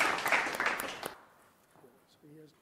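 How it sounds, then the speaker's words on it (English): Brief burst of crowd applause welcomes a speaker at a Sobha Realty event at Sobha Heartland, stopping abruptly after about a second and leaving a faint, quiet room with a few soft tones. "So please welcome him with a round of applause."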